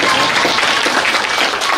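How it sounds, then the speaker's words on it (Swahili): Applause fills the hall at a governor's installation ceremony as patron of the Kenya National Chamber of Commerce and Industry in Meru, a steady dense clapping from a large crowd, loud and continuous for about two seconds. "Makofi."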